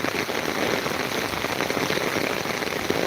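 Steady morning monsoon rain patters densely on a surface close by, a constant hiss of drops with no talking.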